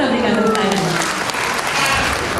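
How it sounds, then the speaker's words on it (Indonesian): Audience applause fills the room at a stock exchange closing ceremony in Indonesia, marking the end of 2011 trading: sustained, dense clapping from a large crowd, loud and steady throughout, with a voice faintly over it at the start. "Boleh kita berikan tepuk tangan."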